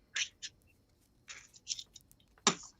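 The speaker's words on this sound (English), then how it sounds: "Quick little shuffle." A Magic: The Gathering deck is given a quick shuffle at a table, making short, close bursts of papery card riffling and flicking separated by brief pauses, fairly quiet.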